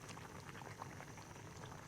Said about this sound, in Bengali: আমার ঝোল মোটামুটি ফুটে গিয়েছে